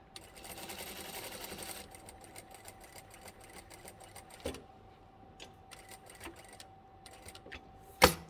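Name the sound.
sewing machine stitching a false hem on trousers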